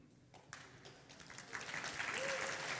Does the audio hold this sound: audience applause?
yes